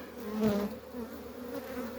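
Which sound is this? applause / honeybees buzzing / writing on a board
honeybees buzzing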